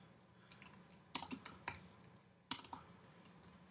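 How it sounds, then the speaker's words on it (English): Typing an address on a computer keyboard: sparse clusters of quick, crisp key clicks with short pauses between them, close and fairly quiet in a still room. "let's just say I'm going to type in"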